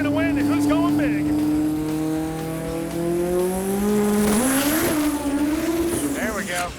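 A 1968 Chevy Camaro with a 1,200 horsepower turbocharged 4-cylinder launches at a drag strip, its loud engine note climbing steadily over several seconds with tire squeal, under crowd and announcer talk.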